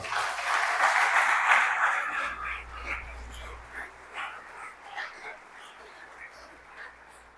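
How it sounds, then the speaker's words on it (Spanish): A church congregation applauds during a Spanish-language sermon, a fairly loud burst of clapping that dies down into scattered, softer claps with some background noise. "Dale un aplauso al Señor."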